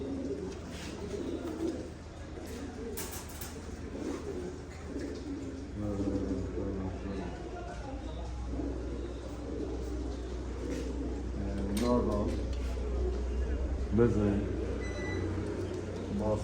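Soft, repeated coos of velvet pigeons near at hand, layered over a steady low background rumble and murmuring voices.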